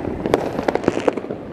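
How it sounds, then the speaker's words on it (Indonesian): New Year fireworks bursting over the Summarecon Mall Bekasi area, a quick run of sharp crackling pops and bangs at uneven intervals, fairly close and loud. "tetap tahun ini alhamdulillah ramai ini pesta kembang api"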